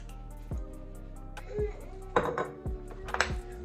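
Vegan lasagna sauce is spread across the bottom of a pan with a utensil, giving a few sharp metallic clinks and scrapes against the dish, close and intermittent, with faint background voices.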